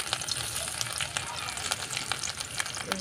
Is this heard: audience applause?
no